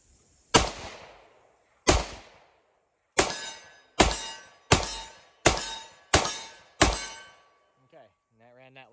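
Eight loud 10mm gunshots from a Colt Delta Elite pistol, close and sharp, each cracking and ringing off with a short echo. Two opening shots come with a pause between them, then a rapid regular string of six, followed by a brief voice.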